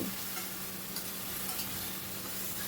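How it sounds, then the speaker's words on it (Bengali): Spice masala sautéing with a splash of water over a high flame makes a loud, continuous close-up sizzle and hiss as it is stirred in the pan. "এবারে সামান্য একটু জল দিয়ে মশলাটাকে ভালো করে কষিয়ে নিচ্ছি"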